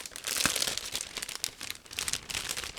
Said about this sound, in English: I will be opening another plastic bag